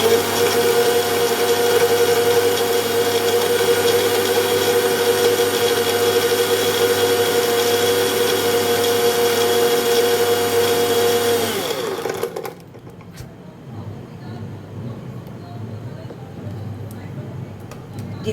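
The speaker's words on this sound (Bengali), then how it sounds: "এবার আবার ব্লেন্ড করব।" A kitchen mixer-blender whirs loudly and steadily while blending thandai with milk, a constant motor drone for about twelve seconds before it cuts off abruptly, leaving quiet room noise.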